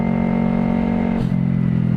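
A Yamaha R25 motorcycle ridden on the road, a loud, steady engine drone close by with a brief dip in pitch partway through, like a gear change.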